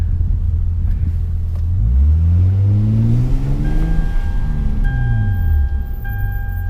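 A turbocharged car held in first gear creeping up a driveway, the engine droning loud and close with rising and falling revs, and a thin steady turbo whistle appearing in the second half.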